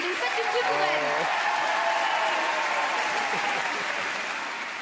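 A large comedy show audience applauds in a thick, continuous wash of clapping, with a voice briefly heard over it near the start.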